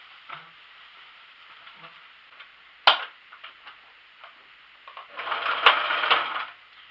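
A sewing machine stitches cloth for a blouse, with light ticking clicks, then a sharp knock, then a short, louder burst of running stitching near the end.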